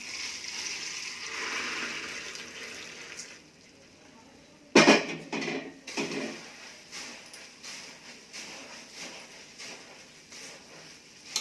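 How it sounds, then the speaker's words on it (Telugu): Water is poured into a bowl of puffed rice in a short splashing burst, followed by quieter trickling and faint kitchen clatter. "ఈ బురుగులకి కొంచెం వాటర్ వేసుకోవాలి."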